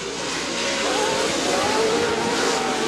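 Off-road race trucks racing at Chula Vista on the CORR series, a continuous loud engine roar with slight revving shifts, sustained and close throughout.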